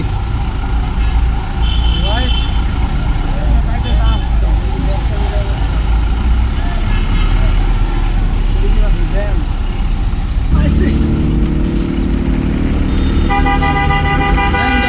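Dense road traffic rumbles steadily while car horns toot repeatedly, some long and sustained, with voices talking over the noise.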